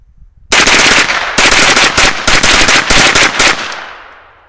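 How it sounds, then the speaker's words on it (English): A 9mm AR rifle with a Fostech ECHO 2 or Franklin Armory Gen 3 binary trigger fires a fast, loud string of about a dozen close shots in quick bursts, each crack ringing out and decaying into echo at the end. "we'll go ahead and drop the bolt and just run it in binary as fast as you can"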